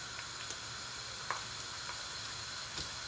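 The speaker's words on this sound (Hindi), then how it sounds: "अच्छे तरीके से हमने फ्राई करना है।" Onions and broken dried red chilies frying in a pan for a soya and dill saag with potatoes, giving a steady, close sizzle with a few faint clinks. No talking.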